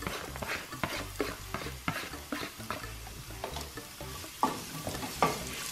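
Onion and garlic are tipped into a hot pan and stirred while frying for a ranchero salsa, giving a steady sizzle broken by repeated scraping spoon strokes, close up and with no talking.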